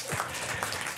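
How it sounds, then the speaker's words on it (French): Audience applause follows a talk at a colloquium on artificial intelligence and social innovation, heard as a short, dense, steady wash of clapping lasting about a second with no voices. "on va vous applaudir"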